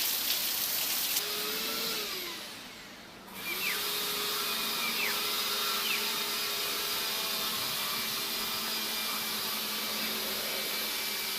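Rain falls steadily over a home garden where organic food is grown, a continuous broad hiss that dips briefly before resuming at an even level.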